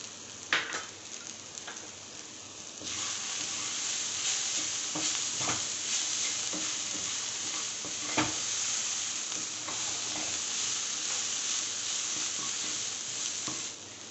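Mushrooms stir-frying in a pan for fried rice, a steady loud sizzle throughout with occasional scraping stirs and clinks of the utensil, close and without talk.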